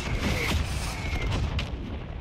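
A mortar round explodes in Warzone with a deep, rumbling boom that rolls on for a couple of seconds, with a few sharper cracks layered in.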